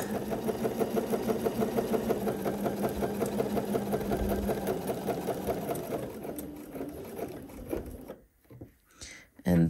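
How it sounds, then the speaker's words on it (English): Sewing machine running at stitch length 5 while stitching a dress bodice, a fast steady mechanical chatter for several seconds that slows, stops, then gives a couple of short bursts. "the way I like to do this is just I sew"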